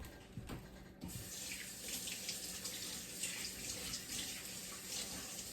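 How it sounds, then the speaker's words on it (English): Steady stream of water running from a kitchen tap as hands are washed, a continuous close splashing hiss that holds for several seconds with no talk. "I need to wash my hand."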